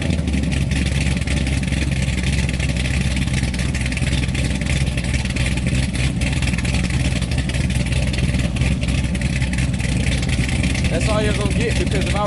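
A car engine idles without revving, a loud steady rumble filling the whole stretch, with someone talking over it.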